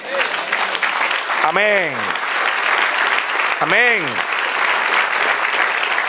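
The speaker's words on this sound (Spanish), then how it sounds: "Den un aplauso al Señor." Church congregation applauding for the Lord during a Spanish sermon, a sustained loud wash of clapping throughout, with voices calling out twice over it.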